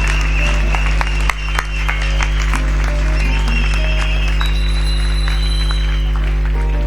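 A church congregation applauds loudly at a night worship service, a dense, sustained wash of clapping with crowd noise and scattered voices throughout.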